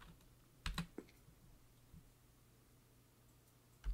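A few quick keystrokes on a computer keyboard while entering a chat command in Minetest, a brief cluster of clicks followed by a quiet pause and one more tap, close and soft.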